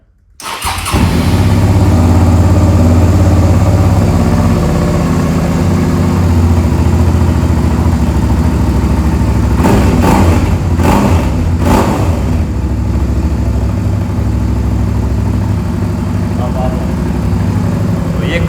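A Suzuki V-Strom 650 project motorcycle starts and settles into a loud, close idle, with a few sharp bursts of revving partway through before it drops back to a steady rumble.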